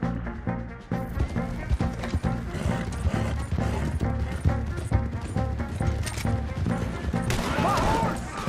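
Galloping horse hooves clatter rhythmically in Red Dead Redemption 2 during a chaotic gunfight, layered with dense music, crashes and impacts, while shouting voices break in over the din.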